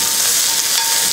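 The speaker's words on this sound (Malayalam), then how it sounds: "ഈ സവാള ഒരു പകുതി വരെ ഒന്ന് വഴറ്റിയെടുക്കണം" Sliced onions with a pinch of salt sautéing in oil over a medium flame, a loud, close, continuous sizzle in a brief burst.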